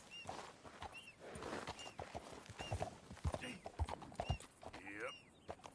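Hooves clatter in an uneven galloping rhythm in Red Dead, close and fairly loud, with talk over the top and a horse's short whinny near the end.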